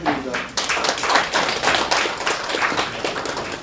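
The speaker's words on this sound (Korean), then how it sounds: "박수 부탁드립니다" Applause from an audience at a winter academic workshop welcoming a professor to present, brisk clapping of moderate loudness with a brief pause early, then continuing for a few seconds.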